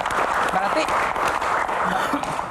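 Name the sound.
audience applause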